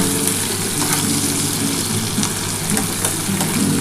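Continuous oily sizzling of salted potatoes and pointed gourd frying together in a pan, steady and close, with faint crackles and no talk.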